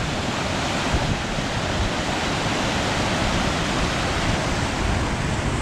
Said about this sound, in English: Another awesome little waterfall section.